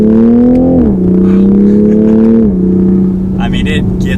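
A Toyota 86 TRD engine pulls hard under acceleration, its steady drone dropping in pitch at each of two gear shifts, loud and close from inside the car, with a brief voice near the end.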